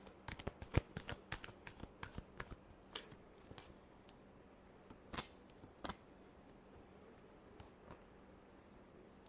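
Tarot cards are shuffled in a run of crisp, rapid riffling snaps, bunched early and then spaced into a few sharper bursts, close and fairly quiet against a hushed room.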